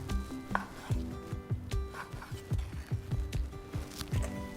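Knife chopping pork into bite-sized pieces on a cutting board, a quick steady series of close thuds in an even rhythm, with no talking.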